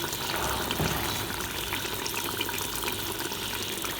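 Cloves, cumin and black cardamom sizzle in hot oil while beef chana dal is being cooked, giving a steady, dense hiss and crackle that runs the whole time with no talking.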